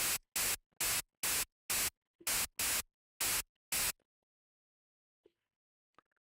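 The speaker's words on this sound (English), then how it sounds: "Essentially just turned into white noise." Harsh bursts of synthesizer white noise from Serum 2 hiss on and off in a choppy rhythm, about ten short blasts, then near silence with a couple of faint clicks.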